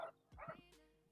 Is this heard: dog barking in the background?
yes